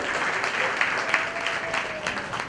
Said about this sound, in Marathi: पुन्हा एकदा सगळ्या वक्त्यांसाठी एकदा जोरदार टाळ्यांचा गजर करूया